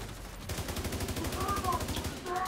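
Rapid automatic gunfire in The Division 2, a fast steady stream of shots for a couple of seconds, close and loud, with faint voices behind it.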